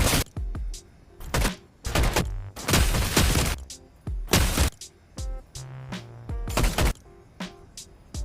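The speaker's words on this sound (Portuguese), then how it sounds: "O André, tudo bem que ele errou uns tiros aqui" Rapid gunfire in mobile Fortnite with SMG and assault rifle shots: loud, sharp bursts and single cracks in irregular clusters, separated by brief gaps, and no speech over them.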